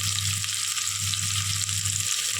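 Onions fry in a pan of hot oil for chicken biryani, giving a steady, dense, close sizzle with a low hum beneath it and no talk.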